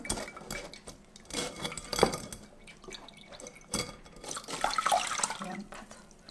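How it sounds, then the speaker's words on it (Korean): Water is drained off boiled potatoes in a kitchen, with irregular splashes, drips and clinks of a pot, moderately close and alone. "물기를 뺄게요"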